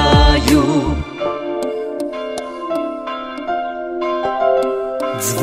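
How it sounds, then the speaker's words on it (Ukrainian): Easter church bells ring in a run of struck, overlapping peals with long ringing tones that carry through the whole stretch over a steady musical backdrop. "Дзвонять дзвони великодні, Божа ласка в нас сьогодні."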